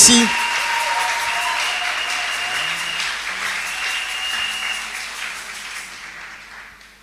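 A church congregation applauds loudly and steadily, the dense clapping mixed with voices, then it gradually fades toward the end.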